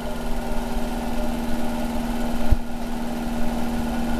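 A small electric motor running on 9 volts at nearly half an amp hums steadily at modest speed, a constant close drone with a faint mechanical rattle and no voices.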